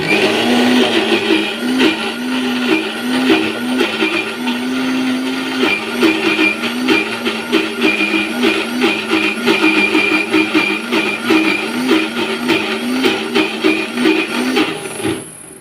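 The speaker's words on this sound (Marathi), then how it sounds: "ते मिक्सरमध्ये 2 ते 3 लाल मिरच्यांसोबत मस्त मिक्स" A mixer grinder whirs loudly, blending roasted peanuts, grated coconut and two or three red chillies into chutney, a steady high motor whine with a pulsing rhythm that runs for about fifteen seconds before cutting off.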